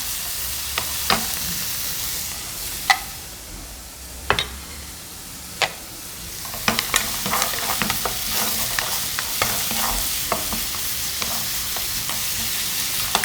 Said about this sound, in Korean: 이렇게 볶고 조개도 들어가고요.